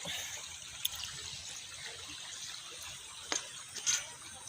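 Soft, steady rush of shallow water flowing over stones, with a few brief splashes near the end; no voices.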